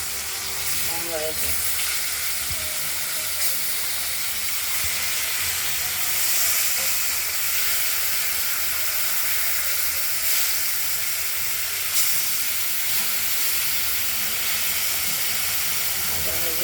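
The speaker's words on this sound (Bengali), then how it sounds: "মাছটা ভাজা হচ্ছে।" Katla fish frying in oil in a covered pan gives a steady, loud hiss and sizzle that runs unbroken throughout, with a few faint clinks and no talking.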